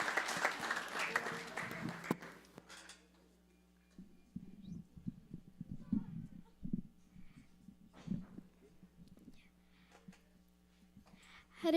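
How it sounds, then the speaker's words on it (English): Audience applause at a Sunday feast gathering fills the first couple of seconds as a brief round of clapping, then stops, leaving quiet room sound with low murmuring and a few faint thumps. "a round of applause"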